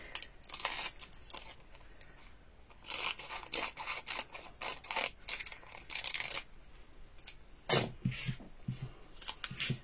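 Scissors snip through a small piece of card for a Valentine's shaker card, with a series of short, crisp cuts and rustles close by, pausing between bursts.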